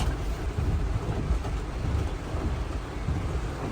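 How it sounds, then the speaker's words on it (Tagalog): A steady, dense roar of heavy rain pours down close by, rumbling and constant with no voices. "Ang lakas ng ulan."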